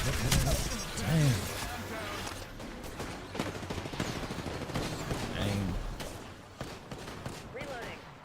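Video game gunfire, rapid bursts and scattered single shots from an online shooter match, crackling over steady background game noise while a player talks and reacts throughout.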